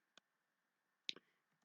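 A few isolated keystrokes on a computer keyboard while coding, sharp faint clicks with long quiet gaps between them, close and otherwise silent.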